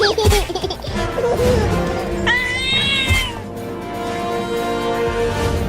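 A cat meows a few times over a busy background with other sounds and a sharp knock.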